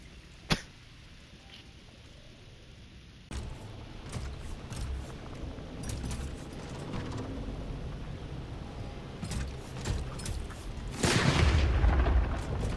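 Gunfire in the sci-fi horror video game Cronos: The New Dawn: one sharp shot early, then scattered impacts and booms over a rumbling backdrop, ending in a heavier, louder blast.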